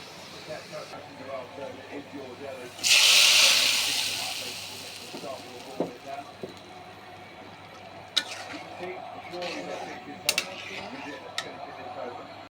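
Fried onion poured into a potato and egg curry, giving a short loud burst of sizzling that fades over a few seconds, followed by light clinks and stirring under steady talking.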